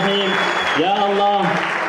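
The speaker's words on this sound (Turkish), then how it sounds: "Ve kuvvetli bir alkış olsun." Guests at a wedding ceremony for an earthquake-survivor couple in Konya give a brief burst of strong applause, with a voice speaking over the clapping.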